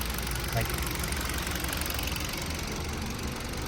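A 2018 Hyundai Solaris 1.6 automatic idling, a steady, even engine hum with faint mechanical ticking heard close by, with someone talking over it.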